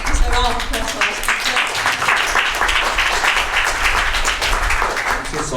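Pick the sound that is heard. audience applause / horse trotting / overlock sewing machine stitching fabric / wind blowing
audience applause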